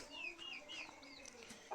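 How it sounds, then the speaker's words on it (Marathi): A hen clucking in a Konkan village yard, a few soft rising and falling clucks at moderate distance over quiet background. "कोंबडी बघा"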